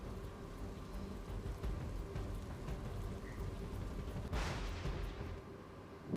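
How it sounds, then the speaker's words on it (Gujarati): Water pours over the under-construction Sani dam in Kalyanpur, Gujarat, after heavy rain, a steady broad rushing roar heard from a distance, with a brief louder surge near the end. "નિર્માણ કાર્ય ચાલુ હોવાથી ડેમ પરથી પાણી વહી રહ્યા છે"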